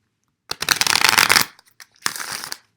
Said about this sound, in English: I'll pick some romance angels and a couple more tarot cards